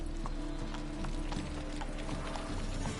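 Hooves of the horse Roach clop steadily in The Witcher 3 on PS5, an even walking rhythm of close, clear steps over a continuous game background, with no talking.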